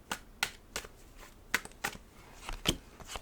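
Tarot cards shuffled by hand in a quiet room, a run of sharp, crisp riffles and snaps spaced roughly every third of a second, close and fairly loud with no talking.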